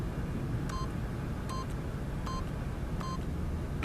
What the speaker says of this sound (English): by simply pushing random buttons on the keypad, Stanley happened to input the correct code by sheer luck